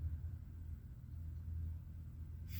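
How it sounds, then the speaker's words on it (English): Steady low rumble of street traffic of cars, motorcycles and trucks at a busy residential corner on the main route into Cooperstown, a continuous muffled drone heard from indoors or a short distance away. "Fucking loud. Cars, motorcycles, trucks."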